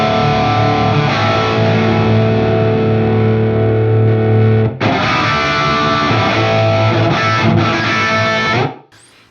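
An electric guitar through a Bogner Ecstasy 101B tube amplifier plays heavily distorted chords, thick and sustained, with a brief break midway before the sound cuts off at the end.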